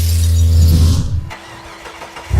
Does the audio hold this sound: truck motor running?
yes